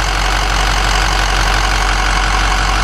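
A Ford Powerstroke 6.0 diesel engine with a suspected blown head gasket idles loudly and close up, a steady rough rumble with no talk over it.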